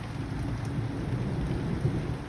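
A brief evening thunderstorm in Lower New England, Australia: steady rain patters continuously while deep rolling thunder rumbles underneath, a dense, even wash of sound with no voices.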